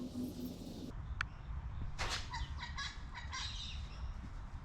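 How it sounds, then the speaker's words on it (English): An Australian wattlebird calls outdoors near a workshop: a short harsh, raspy burst of squawking notes after a moment of background noise, moderately close, with no talking. "That's a wattle bird for the non-Australians outside"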